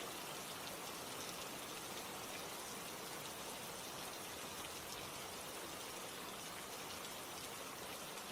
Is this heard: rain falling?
yes